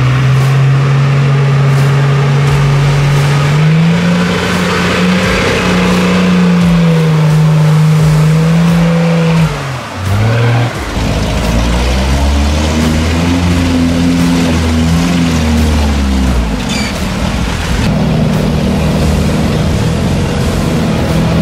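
A Nissan Patrol grinds through heavy off-road terrain, its engine loud and close and droning steadily, then dipping briefly and revving back up with shifting pitch as it pushes on.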